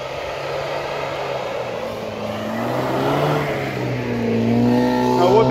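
A UAZ Patriot climbs a first off-road hill, its engine droning and revving higher as it labors upward and draws steadily closer and louder.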